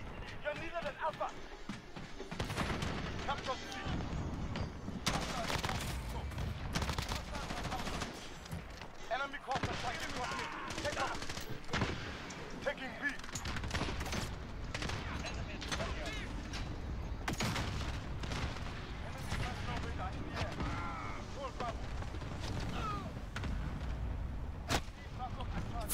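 Rapid bursts of video game gunfire crackle almost nonstop, dense and loud, with a person talking over the shooting throughout.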